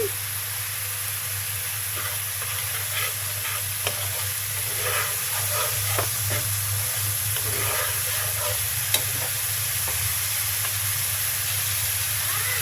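Bay leaf, cinnamon and coriander powder fry in oil for a pangasius curry. The sizzle is steady and broadband, with a low hum underneath, small clicks and a few soft stirring scrapes.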